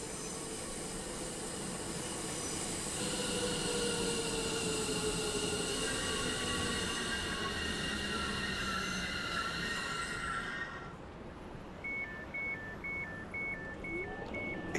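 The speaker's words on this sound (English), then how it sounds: "Oh, you're a train. I see a train." A train passes in Train Sim World 4 on the London Overground, heard as a loud steady rolling rumble with squealing wheels for about ten seconds, then it quickly drops away, leaving a quieter cab with intermittent electronic tones.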